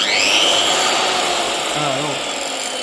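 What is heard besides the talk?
circular saw running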